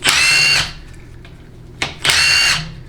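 A power tool in a 1/2 inch size spins off transmission pan bolts on a Chrysler A904 automatic transmission: two loud, close, high whirring bursts of about half a second each, separated by a quiet pause.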